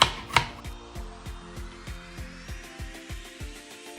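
A knife chops onions on a board in a steady, even rhythm of crisp close taps, about three per second, with one louder knock near the start.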